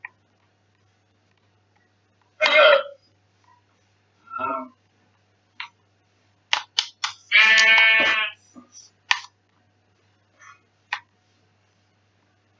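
Sheep bleat in the Minecraft video game, a few separate short calls with clear gaps between them and one longer wavering bleat, crisp and close against near silence.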